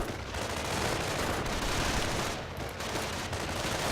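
Riflemen fire steadily in a video game battle, a dense continuous rattle of overlapping gunshots and bursts at a constant moderate level with no talking.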